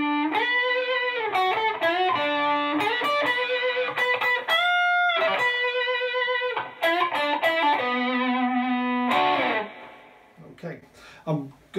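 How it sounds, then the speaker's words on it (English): Electric guitar played through a Zoom effects unit set to distortion overdrive, with sustained, buzzing notes and chords in a riff, loud and close, ringing out and fading near the end. "Just to demonstrate a different effect here, distortion overdrive,"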